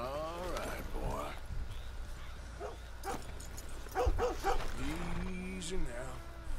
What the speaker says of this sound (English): You see, the dog is back.